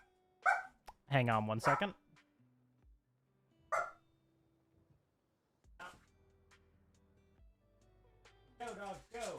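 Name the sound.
dog barking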